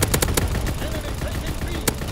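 Flak gun battery in a video game firing at enemy aircraft, a dense run of sharp bursts with several loud cracks standing out over a constant rumbling battle din.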